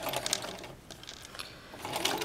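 A sewing machine stitches a quilt's self-binding, running in a fast, steady mechanical whir with rapid needle clatter, close and moderately loud, with slight surges in pace.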